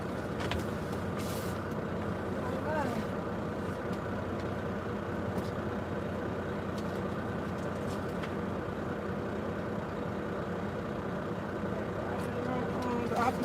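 A truck engine idles with a steady low rumble, and several sharp hisses of air brakes burst out at intervals, some nearby, some farther off.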